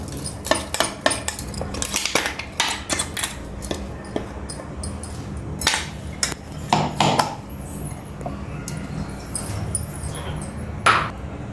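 A spoon clatters and scrapes against a metal bowl while gongura chutney powder is mixed, irregular close clinks and knocks with brief pauses.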